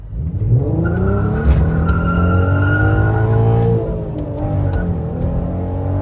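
A VW Golf V GTI carrying a swapped-in R32 engine drives along with a loud, steady engine drone that rises and falls in pitch through gear changes, dropping slightly toward the end.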